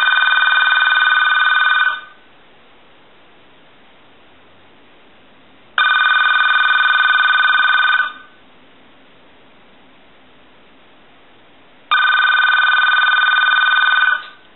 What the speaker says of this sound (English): We'll go ahead and ring it.